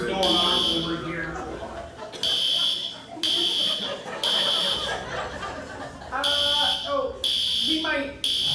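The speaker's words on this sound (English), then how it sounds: "We've got some alarms going on over here." Building fire alarms sound during testing in repeated loud electronic buzzing bursts, about six of them, starting and stopping irregularly, with people talking and chuckling underneath and between the blasts.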